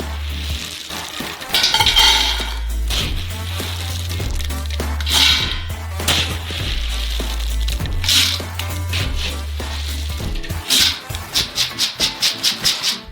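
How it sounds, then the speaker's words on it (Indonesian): Roasted peanuts poured into a pan, a loud stream of rattling and clinking against metal over a low hum, ending in rapid rhythmic scraping, with no talk. "Tuang ke dalam panci."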